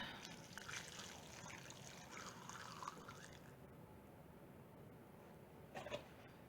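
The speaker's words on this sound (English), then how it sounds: "I'm going to pour the dye over the t-shirt" Dye pours over a damp, scrunched t-shirt sitting in a bowl, giving a faint, close trickle of liquid with a brief splash near the end.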